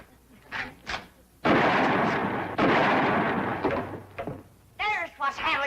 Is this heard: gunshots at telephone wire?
yes